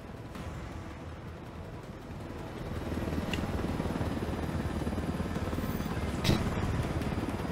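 A military aircraft's engine drones steadily in Ghost Recon Wildlands, a broad constant roar that swells louder partway through and carries on without letting up.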